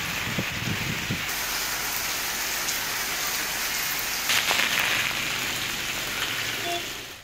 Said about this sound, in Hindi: इस्लामाबाद, रावलपिंडी में तेज बारिश।